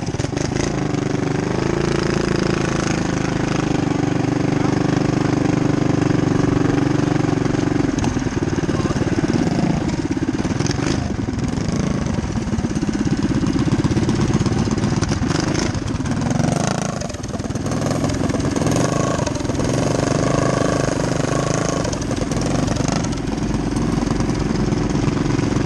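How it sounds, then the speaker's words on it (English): A motorcycle engine runs at a parade in Fairfax, a loud, close, continuous rumble that swells and dips slightly over the whole stretch amid crowd noise. "Get behind that motorcycle."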